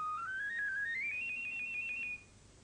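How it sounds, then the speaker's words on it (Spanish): High, thin piccolo line climbing in stepped pitches over about two seconds, faint and alone against quiet room noise. "Estas solo las puede dar el flautín, el hermano menor de la flauta."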